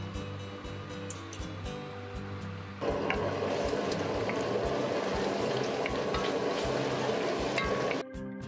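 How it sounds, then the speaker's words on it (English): Onions frying in a pan, a soft bubbling sizzle that jumps to a louder, denser crackle partway through as the onions hit hotter oil, then drops back near the end. "Then I start by cooking the onions. Fry them until they're light brown."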